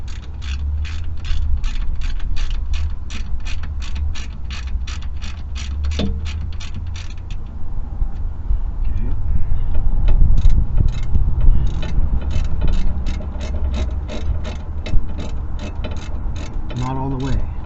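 Ratcheting wrench clicks in rapid bursts while bolts on a Jeep WJ rear differential cover are snugged down, with a brief pause midway before the steady ratchet clicking resumes up close.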